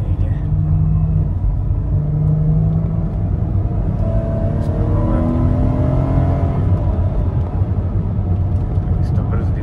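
A 2014 Chrysler Town & Country Touring minivan with a 3.6 V6 drives along, its engine a steady low hum under cabin road rumble, with gentle rising revs as it accelerates.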